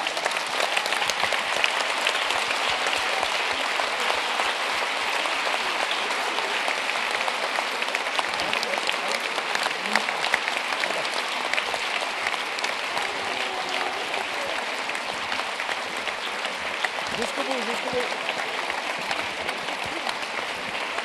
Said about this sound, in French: Vous pouvez les applaudir très chaleureusement.